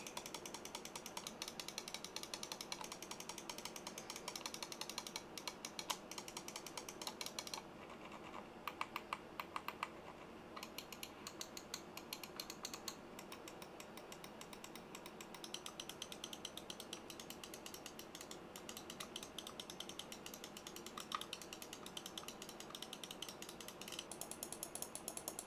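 Computer mice (Roccat Burst Pro, Razer Viper and Glorious XM1) are clicked in rapid, dense bursts for a sound comparison, producing sharp, close clicks with brief pauses between sets and no talking.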